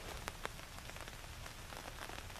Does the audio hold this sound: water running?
no